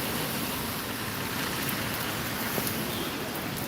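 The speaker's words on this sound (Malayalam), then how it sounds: "മഴ പെയ്ത് ഇവിടെ എല്ലാം വെള്ളം വീഴുന്നുണ്ട്" Steady heavy rain falling in Idukki, a dense even hiss of drops on surfaces all around, constant and moderately loud with no voices.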